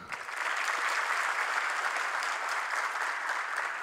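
A crowd at a company event for a tools brand claps with loud, dense applause that holds steady from start to finish.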